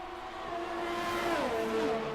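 Ferrari Formula 1 car in F1 2018 at Bahrain, engine tone whining steadily then dropping in pitch as it races past, fairly loud and continuous with no voices over it.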